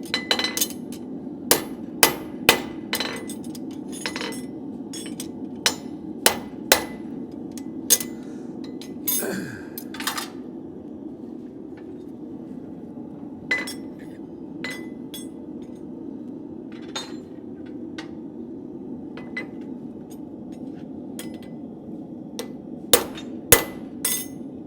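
A hammer taps a steel drift punch to clean up a nail hole: a scattered series of sharp metallic clinks, some quick and clustered, others spaced apart, over a steady low background hum.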